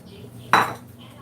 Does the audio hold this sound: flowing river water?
no